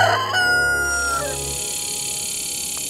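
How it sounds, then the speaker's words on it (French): Large birds calling loudly at night in a Florida parking lot, a harsh crowing cry near the mic that fades into a steady hum of ambient noise. "Il est 1 h du matin et il y a ces énormes oiseaux"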